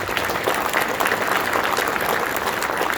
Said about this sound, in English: please help me in thanking Eric for providing